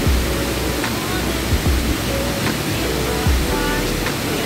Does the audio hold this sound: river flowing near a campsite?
yes